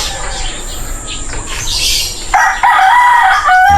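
A rooster crows loudly and close by, a strained, harmonic call that rises out of rustling background noise near the end.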